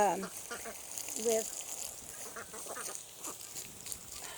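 Muscovy ducks calling, a couple of brief raspy calls near the start and around a second in, followed by low scattered bird noise.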